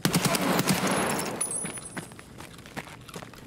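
Gunfire in the first-person shooter Escape from Tarkov, a dense, loud burst of rapid shots in the first second and a half that gives way to a quieter scuffle of movement and scattered clicks.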